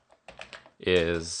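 Quick keystrokes on a computer keyboard while a command is typed, a short burst of taps followed by someone speaking over the last of them.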